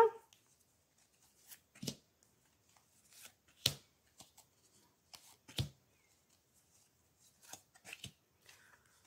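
Oracle cards are shuffled and handled in bursts, with soft, separate slaps and flicks of card stock spread over several seconds against a near-silent background.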